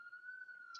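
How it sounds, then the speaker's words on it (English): A distant siren wails outside as a faint, steady high-pitched tone held for just under a second, thin and far off with no other sounds around it. "Sorry if this siren is really loud."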